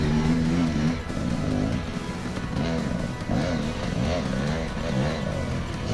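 Dirt bike engines rev and strain as riders climb a steep, low-traction hill on a wooded single-track trail, throttle rising and falling continuously, loud and close, wheels spinning.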